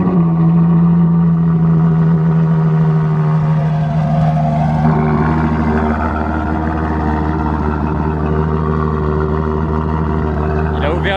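A Ferrari Monza SP1 cold-starts with its exhaust valves open, producing a loud, steady, deep engine drone with a strong low hum and a slight change in pitch partway through, close by, with voices talking over it.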